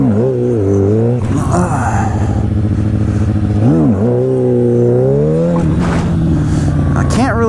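Motorcycle engine set up for stunt riding, idling a little rough then revving up and down in repeated rising and falling sweeps, loud and close throughout.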